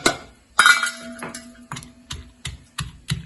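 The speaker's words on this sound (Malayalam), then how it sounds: "ഉള്ളി കൊച്ചുള്ളി വെളുത്തുള്ളി പിന്നെ ഇതാക്കണ കാന്താരി മുളകും കുരുമുളകും പച്ച കുരുമുളകും കേട്ടോ അതൊന്ന് ഇതിലിട്ട് അതൊന്ന് ക്രഷ് ചെയ്ത്" Shallots, garlic, bird's eye chillies and black and green peppercorns being crushed for a dry fish curry, a series of sharp, close knocks and thuds coming at an irregular pace, each followed by a short ringing tail.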